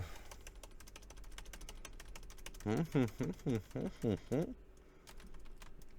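Sharp mouse clicks while playing the browser game Shakes & Fidget, scattered quick ticks throughout and close to the mic, with a short stretch of someone talking in the middle.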